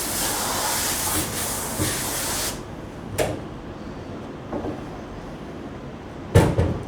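Water rinsing a screen printing frame in a darkroom washout area gives a steady broadband hiss that stops abruptly partway through, followed by a few brief knocks and a louder clatter near the end.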